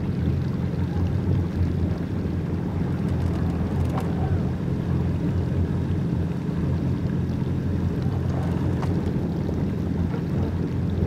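A Yamaha boat with thrust vector steering turns hard to port and starboard at full lock, giving a steady, close engine and water roar mixed with wind noise throughout.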